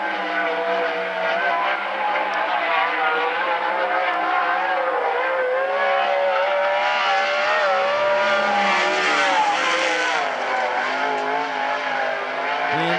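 A sprint car on the Western Sprint Tour runs a qualifying lap at the Central Washington State Fair track, its engine a loud sustained high-pitched roar rising and falling as it powers through the turns.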